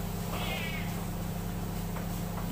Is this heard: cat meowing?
yes